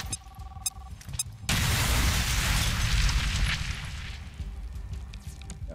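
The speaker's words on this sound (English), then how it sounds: "Grenade out!" A grenade goes off in a shooter video game: one sudden, loud blast that roars for about two seconds, then slowly fades into a rumbling tail.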